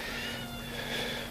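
A cat meows once in a drawn-out, fairly faint tonal cry, alone with no talking over it.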